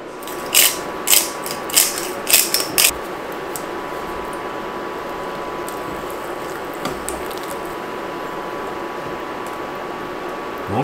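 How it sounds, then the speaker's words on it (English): A pepper grinder cracks pepper over a pot of Irish stew, giving about six quick rasping twists close by in the first few seconds before a quiet kitchen hum takes over. "It needs salt and a grind of pepper or two."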